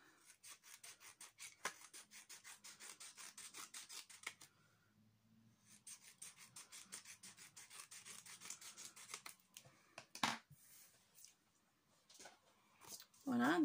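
Scissors or a blade cut a scrap of cardstock while making a Christmas star card, giving repeated rasping, rubbing strokes in two bursts with a short pause between, close up and fairly quiet, followed by a few sharper knocks.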